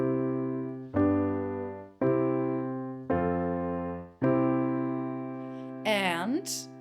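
Four sustained chords in a 1-5-1-4 progression struck one after another at an even pace, each ringing and slowly decaying, followed by a brief voice at the end.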